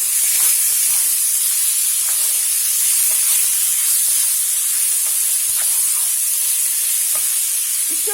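Bulgur grains being stirred and toasted in a hot pot, giving a steady dry hissing sizzle throughout with faint scraping clicks from the stirring, close and continuous.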